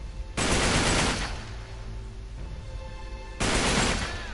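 Sustained machine gun fire in Uncharted 3, two long bursts of rapid shots at close range, loud and dense, separated by a quieter stretch of game ambience.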